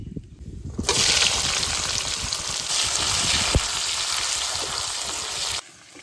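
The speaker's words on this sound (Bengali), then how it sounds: "এবার দিয়ে দেবো কোচানো পেঁয়াজ" Sliced onions hitting hot oil with bay leaf, whole garam masala and cumin, a loud, dense crackling sizzle that bursts in suddenly and holds steady up close for about five seconds before cutting off.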